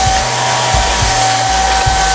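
Steady loud roar of a blow dryer running without pause, airy hiss with a thin high-pitched whine over a low rumble.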